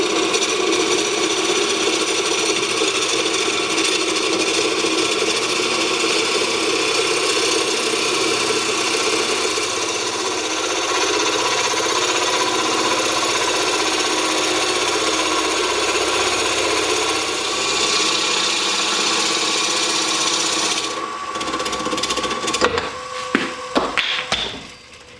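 A wood lathe turns a piece while a skew chisel cuts it, making a steady, loud whirring hum with a continuous scraping hiss for about twenty seconds, ending in a few sharp knocks and clatter as it stops.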